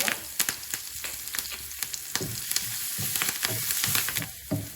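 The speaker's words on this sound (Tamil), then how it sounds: "பூண்டு கொஞ்சம் நல்லா வதங்கணும்" Garlic with curry leaves sizzles in hot oil, a steady crackling fry with scattered pops and occasional stirring scrapes, close up.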